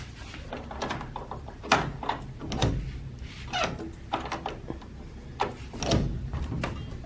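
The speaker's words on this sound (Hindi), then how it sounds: "मैं दरवाजा खोल के दिखाता हूँ" A temple door with a double lock is worked open, giving a series of knocks, clunks and rattling bumps at irregular intervals over several seconds, close by and moderately loud.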